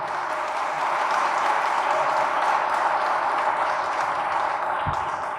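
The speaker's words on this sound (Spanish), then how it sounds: "un aplauso para los organizadores" Applause from the audience for the organizers of a women's access-to-justice meeting, a steady wash of clapping lasting throughout at even loudness, with a brief thump near the end.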